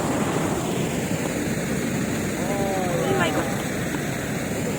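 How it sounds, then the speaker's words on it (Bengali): Water current rushing at the Nazirating water dam, a steady broadband roar throughout with a voice speaking briefly over it partway through. "দেখতে পাচ্ছ জলের স্রোত।"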